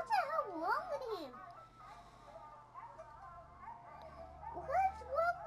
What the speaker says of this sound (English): What's wrong with those dogs?